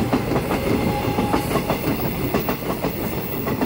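An EMU513 coupled with an EMU505 local electric train runs past close by on the Yilan line, a loud continuous rumble with rhythmic clickety-clack of wheels over rail joints throughout.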